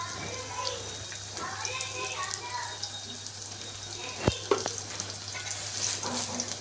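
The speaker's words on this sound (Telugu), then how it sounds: "ఈ అల్లం వెల్లుల్లి పేస్ట్ పచ్చి వాసన పోయే వరకు కలుపుతూ ఉండాలండి." A tablespoon of ginger garlic paste with curry leaves sizzles in a pan for coconut rice, a continuous crackling fry with scraping stirs and a couple of sharp knocks from the spoon.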